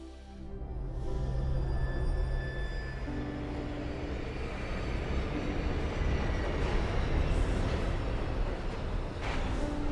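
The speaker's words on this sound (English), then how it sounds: "I am on the train back home." Train in motion heard from inside a carriage: a steady, loud rolling rumble with rattling wheels and faint high squeals that runs continuously, with no voices.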